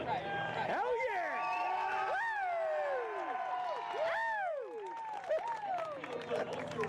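Spectators at a short-track Super Late Model feature at Freedom Motorsports Park whoop and cheer in rising and falling shouts, with scattered applause, loud and close throughout.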